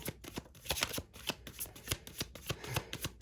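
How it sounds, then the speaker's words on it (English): A deck of cards riffled repeatedly, quick rhythmic bursts of flapping paper close up, with no talking. "Let me shuffle this deck one more time."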